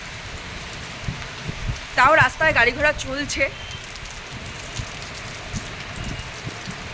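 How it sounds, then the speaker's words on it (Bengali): Heavy rain from a sudden storm in Singur, Hooghly district, with gusty wind and traffic still moving on the road; a steady wash of rainfall runs throughout while someone briefly speaks in the middle. "হঠাৎ কালো হয়ে এলো এবং বৃষ্টি হতে শুরু করে দিল"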